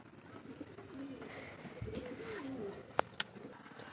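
Pigeons cooing softly nearby, a few low rolling coos over faint outdoor background, with a couple of sharp clicks near the end.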